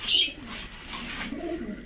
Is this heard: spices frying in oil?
no